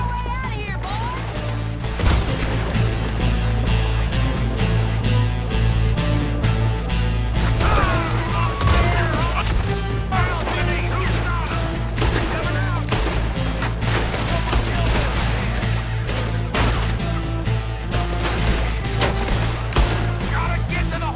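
Gunfire from a shootout in Red Dead Redemption 2 crackles repeatedly in dense bursts, mixed with crashes and impacts over a rumbling game score, while characters shout over the chaos.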